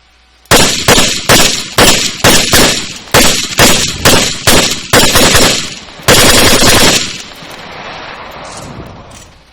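Weapon fire from a work-in-progress mod weapon in Arma 3's IFA3WarMod: about a dozen loud, close single shots in quick rhythm, then a sustained automatic burst cutting off into a fading echo and ambient tail.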